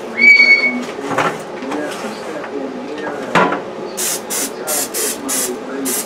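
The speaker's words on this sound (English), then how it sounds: "I'm gonna go ahead and give all of these an extra spritz" Spray bottle spritzing oil onto food for air-fry crisping, a run of about six short sharp hissing bursts in quick succession near the microphone, after some handling clatter and background voice.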